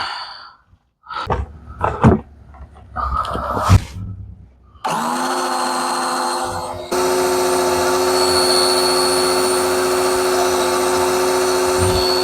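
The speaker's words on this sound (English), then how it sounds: "And if I can use the pump, then that'll be a lot easier." A small pump drawing rear-end gear fluid out of a Trans Am differential starts with a steady whirring motor hum, then settles into a louder, even drone after some clattering handling noises, with someone speaking early on.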